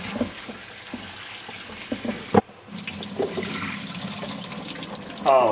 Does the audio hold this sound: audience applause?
no